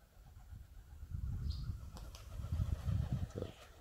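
A pigeon flies overhead in the early morning, its wingbeats a soft low fluttering whoosh that swells and fades, with faint distant chirps in a quiet outdoor setting.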